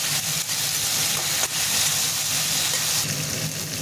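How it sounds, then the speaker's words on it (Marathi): Green peas fry in a pan for pulao, giving a steady, close broadband sizzle that holds throughout, with brief stir-like bursts and no voices. "आता टाकूया मटर, आता ह्याला आपण व्यवस्थितपणे फ्राय करून घेऊया."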